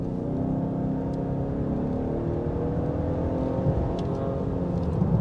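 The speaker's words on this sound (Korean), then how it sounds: "딱 V6 엔진에서 듣기 좋은 V6 엔진의 소리를 들려줘요" Inside a Lincoln Aviator PHEV Grand Touring, the V6 engine hums steadily under acceleration, a smooth, muffled, continuous drone heard from the cabin with no talk over it.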